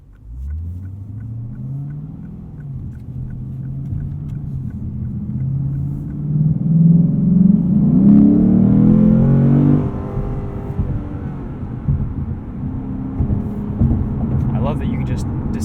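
A 2019 Lexus RC F V8 revs up from a low idle rumble into a loud climbing roar, then drops back to a steady rumble heard from inside the cabin, with someone talking over it.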